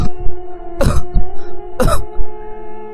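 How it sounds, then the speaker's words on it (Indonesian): A boy chokes on a drink and coughs, with two sharp, loud coughing bursts about a second apart plus smaller throat sounds, close and alone. "Dito tersedak dan batuk."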